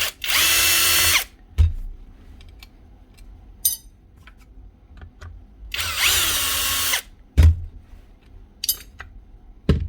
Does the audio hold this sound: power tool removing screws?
yes